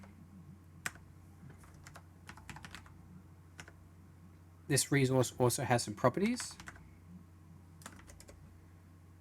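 A quick burst of fast typing on a computer keyboard sits in the middle, with scattered single key clicks before and after, while someone talks quietly over the clicks.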